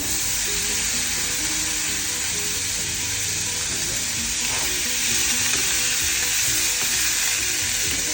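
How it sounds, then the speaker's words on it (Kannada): Shredded cabbage goes into a spiced oil tempering with asafoetida and fries in a loud, continuous sizzle up close, with a thick hiss and occasional stirring scrapes running under it from start to finish. "ಹುರಿಯೋದಕ್ಕೆ ಆ ಒಗ್ಗರಣೆ ಜೊತೆನೆ ಕೋಸು ಹಾಕ್ತಾ ಇದ್ದೀನಿ."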